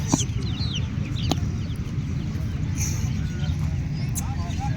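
Chickens cluck in the background amid busy outdoor noise at a bird market, with occasional sharper calls from the birds and a crowd murmuring nearby.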